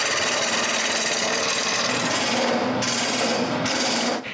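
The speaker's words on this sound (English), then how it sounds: "After putting this on the lathe, it's time to turn this log round." A wooden log spins on a lathe while a tool cuts it round, giving a loud, dense, continuous rough chattering rasp up close, steady throughout with a couple of brief dips near the end.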